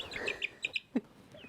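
A young leghorn hen gives a few soft, quick clucks and chirps close by, brief and faint against a quiet background.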